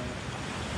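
Ocean waves roll onto the shore at a seaside campsite in steady wind, a continuous loud wash of surf with buffeting gusts against the microphone and no voices.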